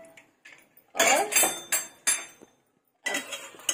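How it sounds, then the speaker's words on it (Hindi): Metallic clanks and scraping of a pressure cooker lid being handled and lifted after one whistle, in several short bursts with quiet gaps. "अब कुकर खोलते हैं"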